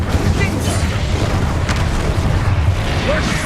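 A fiery Incendio spell is cast in the Hogwarts Legacy video game, giving a loud, steady roaring burst of magical flame with deep booming rumble throughout amid combat sounds.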